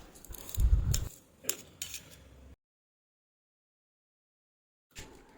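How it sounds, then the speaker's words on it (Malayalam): Coriander leaves being finely chopped with a knife, a few quick, light cutting taps and clinks up close, followed by a long silent gap and one more brief tap at the end. "മല്ലിയില എടുത്തിട്ട് നമ്മൾ ഇതുപോലെ ചെറുതായിട്ട് കുനുകുനാന്ന് അരിഞ്ഞു കൊടുക്കാണ്"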